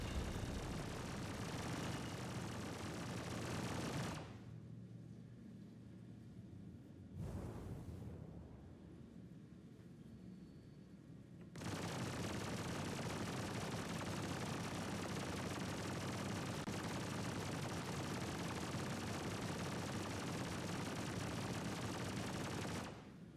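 Ship guns fire in Star Citizen, a space game. Dense, sustained bursts of gunfire run in long loud stretches, break off into a quieter gap with one short burst, then resume steadily to the end.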